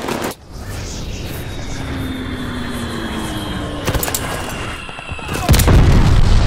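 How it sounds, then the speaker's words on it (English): A glide bomb strike lands in a Call of Duty Vanguard match with the Mauser C96 machine pistol, bringing a loud booming impact and rumbling blasts over steady aircraft and battle noise, with a final heavy explosion at the end. "Glide bomb, ready for target!"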